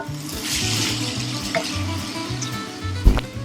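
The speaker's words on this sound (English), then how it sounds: "I'm going to throw in a couple of pats of butter." Pats of butter sizzling in bacon fat with vegetables in a pan for a nettle and morel frittata, a steady close hiss with stirring scrapes and a sharp clink near the end.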